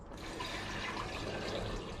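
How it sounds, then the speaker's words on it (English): Distilled water pouring steadily into three glass beakers at a workbench, a continuous close splashing and trickling fill that stays even throughout with no talking. "I'm putting distilled water in all 3 of them."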